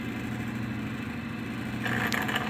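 Distributor test machine spinning a 1968 Oldsmobile distributor counterclockwise, a steady low mechanical hum and whir with light clatter that grows slightly louder near the end.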